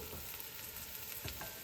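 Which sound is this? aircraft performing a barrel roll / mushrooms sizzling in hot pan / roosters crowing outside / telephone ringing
mushrooms sizzling in hot pan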